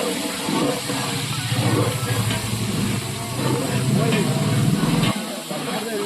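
Onions drop into a hot pan and sizzle in a broad, steady hiss that runs for about five seconds before cutting off abruptly.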